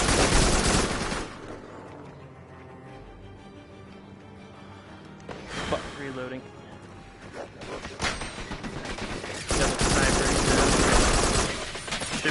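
Bursts of sci-fi weapon fire and impacts in the co-op shooter Farpoint: loud broadband volleys open the clip and return near the end, with a quieter stretch and scattered blasts between, while players talk over the action.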